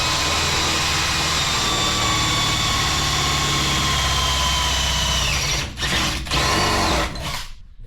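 A drill runs continuously at a steady high whine, boring a hole through a spot weld in sheet metal. It is loud and close, then falters with a couple of brief dips before winding down at the end.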